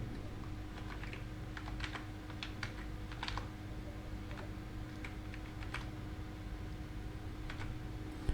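Keys clatter on a computer keyboard in short bursts of typing, quiet and close, separated by brief pauses over a faint steady hum.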